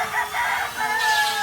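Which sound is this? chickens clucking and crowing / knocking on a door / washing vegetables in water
chickens clucking and crowing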